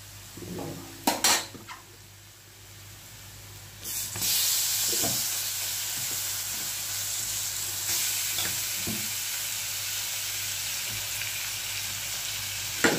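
Pabda fish and onion hit hot oil in a pan with a steady, loud sizzle that runs for several seconds, after a few sharp utensil clacks against the pan at the start.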